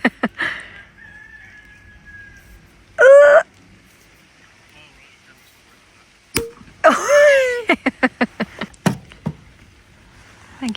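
A rooster crows twice, fairly close, amid outdoor ambience with a few sharp knocks and brief voices.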